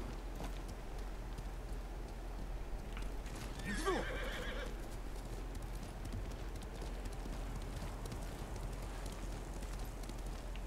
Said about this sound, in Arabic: ونادي الحصان